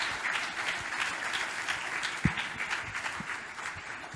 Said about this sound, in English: Ladies and gentlemen, a round of applause, please,